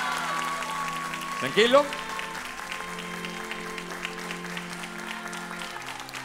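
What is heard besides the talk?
audience applause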